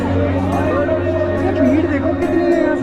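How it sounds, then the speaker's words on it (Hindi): Crowd babble fills a busy market at the Kullu Dussehra festival, a close, steady hubbub of many overlapping voices with a nearer person talking over it. "भीड़ देखो कितनी है, यहाँ से कैसे क्रॉस करे"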